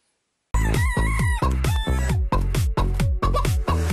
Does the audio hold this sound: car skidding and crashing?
no